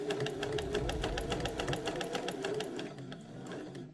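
A sewing machine runs steadily, stitching bias binding onto the curved hem of a shirt, its rapid needle chatter continuous and close before slowing near the end.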